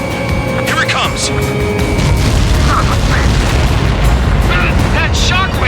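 A Helios long-range missile detonation in Ace Combat 7 sends a loud, sustained rumbling shockwave roaring continuously through the scene, with radio voices talking over the blast.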